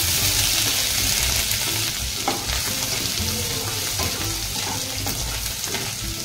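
Chopped green chili, curry leaves, ginger, garlic and coriander hit hot oil in a pan for tempering, giving a continuous close sizzle with stirring scrapes and a few soft taps, no talking.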